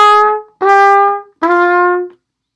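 A wind instrument plays three detached notes, each cleanly separated by a short silence and stepping slightly lower in pitch. The notes are loud, sustained and heard alone.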